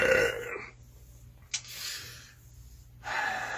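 A person lets out a loud, close burp, a rough, drawn-out belch between quieter breathing sounds.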